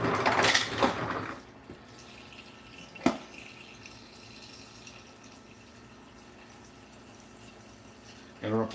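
A refrigerator's water dispenser slowly trickling into a glass in a kitchen, a quiet, steady thin stream after a brief burst of talk, with a single sharp clink partway through.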